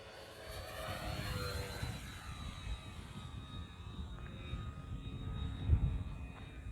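A Dynam Focke-Wulf Fw 190 1.3m RC model plane flies overhead, its electric motor whining faintly at a distance with a pitch that shifts as it passes, under light wind noise.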